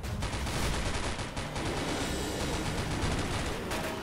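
Continuous dense gunfire, loud and close, a rapid unbroken rattle of shots filling the whole stretch without pauses.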